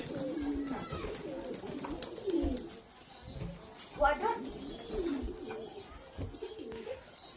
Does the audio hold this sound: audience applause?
no